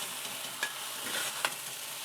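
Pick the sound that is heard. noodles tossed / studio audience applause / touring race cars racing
noodles tossed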